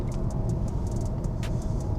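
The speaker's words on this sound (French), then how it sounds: "il y a un petit moteur thermique et il y a 3 moteurs électriques. Allez, on accélère." A BYD plug-in hybrid car with a small petrol engine and three electric motors is driven at full throttle, giving a steady, muted hum of motor and road noise with light ticking and no strong surge.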